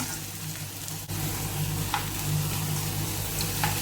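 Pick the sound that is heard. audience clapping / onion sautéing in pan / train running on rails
onion sautéing in pan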